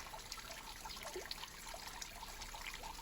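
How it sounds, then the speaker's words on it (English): Steady water noise from a gentle waterfall spilling over a cliff into a river, a constant broadband rush with faint trickling detail and no voices. "on a river where you can hear the gentle falling of a waterfall as it cascades over a cliff"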